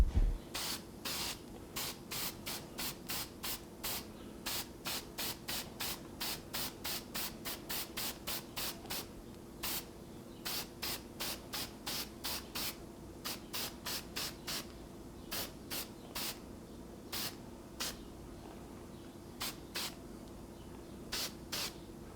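A spray can dusts color onto a woodturned bowl in a long run of short, evenly spaced hissing bursts, with brief pauses between groups.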